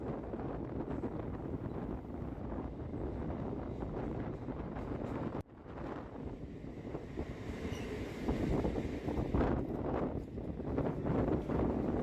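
A fast Sealdah-Barrackpore galloping local train runs toward Belgharia, a continuous close rumble of wheels and carriage noise mixed with wind buffeting, steady and fairly loud, with a brief dip partway through.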